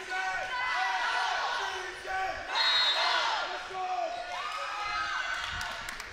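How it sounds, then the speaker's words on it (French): Crowd at a junior boys' volleyball final cheering wildly, a dense sustained roar of shouting voices that swells and dips over several seconds, with excited calls rising above the din. "on entend la foule qui est en délire"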